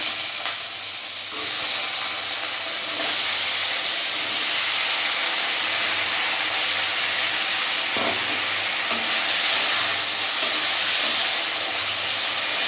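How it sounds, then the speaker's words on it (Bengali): Potatoes frying in hot oil in a wok, giving a loud, steady, close sizzle and hiss that holds evenly throughout with no talking. "ফোড়নটা আমার ভাজা হয়ে গেছে, আমি আলুগুলো ছেড়ে দেবো।"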